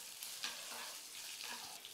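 Garlic and dried red chilies fry in a hot pan for a Tamil sorrel-leaf kadaiyal, giving a steady, close oil sizzle with faint crackles and small stirring scrapes throughout, with no talking.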